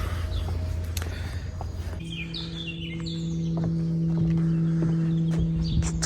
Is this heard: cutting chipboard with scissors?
no